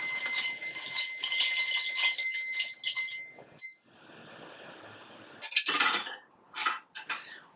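A Negroni cocktail is stirred with a bar spoon, giving rapid metallic clinks against glass and ice, close and bright. The stirring breaks off in short pauses before a few final bursts.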